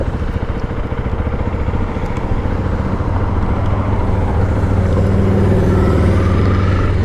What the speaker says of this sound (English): a fellow motorcyclist riding through the rain